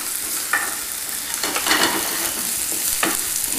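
Garlic, sliced almonds and onions sautéing in a pan, a steady close sizzle with a few scraping stirs of the spoon, no voices over it.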